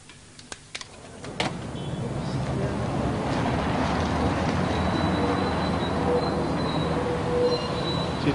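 A German U-Bahn subway train rumbles in an underground station, a loud, steady roar with faint wheel squeals after a few sharp clicks and footsteps at the start.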